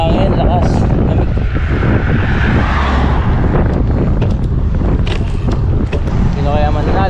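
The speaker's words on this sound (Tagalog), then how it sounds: "Sarap ng hangin, lakas, lamig." Strong, cold wind buffets the microphone while cycling on a long road ride from Cavite to Vigan, a loud, steady rumbling roar filling the whole stretch, with voices faintly audible beneath it.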